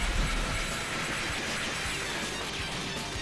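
A train rolls through a level of the Metal Slug X arcade game, a dense, steady, loud rattle and rumble with clattering game effects and no talking.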